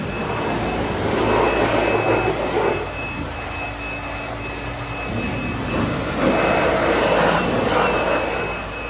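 A blower drives air through an outdoor air conditioner coil during cleaning, a steady, loud whooshing roar that swells and eases slightly as the nozzle moves, with no talking.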